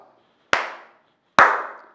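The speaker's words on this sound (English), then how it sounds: "See, when you clap," Two sharp hand claps, about a second apart, each a crisp close snap with a short decaying ring in a quiet room, no talking.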